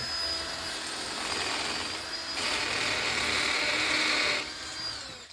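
Power drill boring holes to set anchor bolts for a screen room, a steady loud whine that rises in pitch midway and then eases off near the end, with no talk.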